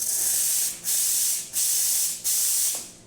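Steam wand of a freshly tuned La Marzocco Linea PB espresso machine gives a loud, steady hissing spray, cut off briefly three times into separate bursts, with no voices.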